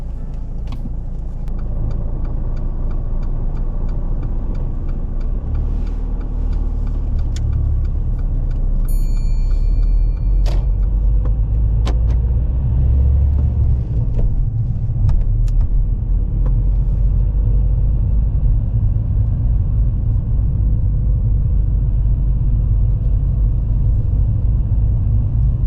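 A car pulls away and drives along a road during a practical driving test, a steady low engine and road rumble running continuously and fairly loud, with a few faint clicks and jingles from inside the cabin.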